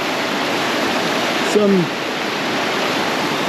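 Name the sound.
small waterfall in Jamaica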